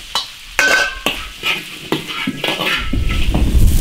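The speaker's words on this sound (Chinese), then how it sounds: "炸好的鱼下锅" Deep-fried river fish is tossed back into an iron wok with aromatics. Close, loud sizzling runs under repeated rhythmic scrapes and clanks of the spatula against the pan.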